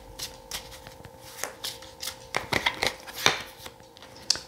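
Tarot cards shuffled by hand, a run of crisp riffling bursts and soft slaps that build in the middle and trail off, close and fairly quiet with no talking.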